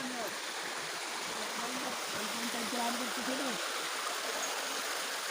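River at Pinzal Falls flowing as a steady, fairly faint broadband rush, with a person speaking clearly over it throughout.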